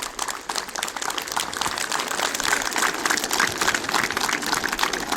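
A group clapping hands together during a yoga session, a fast irregular patter of many claps at close range, fairly loud and continuous with no talking.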